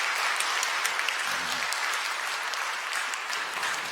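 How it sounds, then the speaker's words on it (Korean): A church congregation applauds steadily to welcome newly registered members during a Sunday worship service, a dense, even clapping that holds for several seconds without speech. "여러분들 환영의 박수 부탁드립니다"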